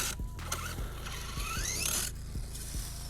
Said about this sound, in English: I do hear a little bit of clicking in it, so I don't know if I've already stripped a gear or something